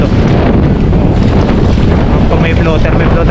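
Strong wind blows across open sea around a fishing boat, roaring steadily and buffeting the microphone throughout, with the boat's noise and water underneath.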